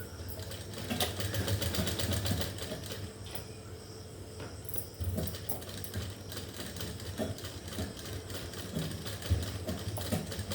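A sewing machine runs in close, steady bursts while stitching a shirt seam, its fast rhythmic needle chatter pausing briefly and restarting, with no talking over it.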